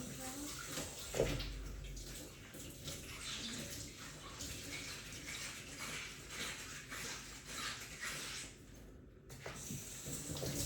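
Water runs steadily while a small teacup is washed, a soft continuous splashing trickle heard close and quiet during an autumn tea session, with faint whispering in the background.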